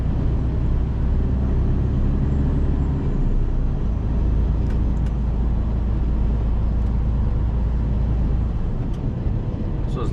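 Engine of a Mercedes 2548 truck on the move, a steady low rumble with road noise. It stays loud and continuous for the whole stretch, with a brief deeper swell near the start and no talking.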